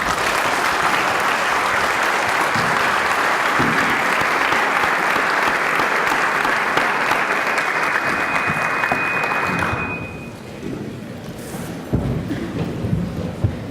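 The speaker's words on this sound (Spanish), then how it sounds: "Ahora quiero pedirles un gran aplauso" Audience at a corporate accountability event in Spanish applauds loudly and continuously for about ten seconds, then the clapping fades abruptly and a few scattered claps linger before talk resumes.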